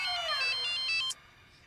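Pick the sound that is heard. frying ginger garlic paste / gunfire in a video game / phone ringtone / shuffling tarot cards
phone ringtone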